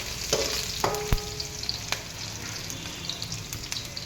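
Crushed garlic fries in a pan with a steady sizzle, interrupted by a few clanks and scrapes of a stirring utensil, and no voices.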